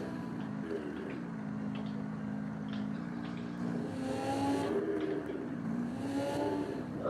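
An Audi R8 sports car engine in a vehicle simulator video game drones and rises in pitch as it revs, steady and moderately quiet, with shifting tones through the run.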